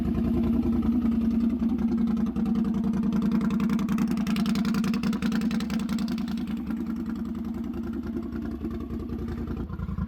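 A loud, lifted Polaris Sportsman 1000 ATV with portal gear lifts idles steadily and continuously with a rough, low rumble, close by and without speech.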